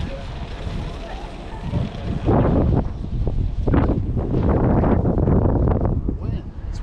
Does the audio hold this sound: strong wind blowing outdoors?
yes